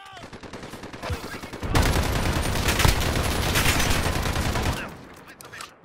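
Sustained automatic gunfire in Call of Duty: Modern Warfare bursts into a dense, loud rattle of rapid shots lasting a few seconds, preceded and followed by sparser single shots.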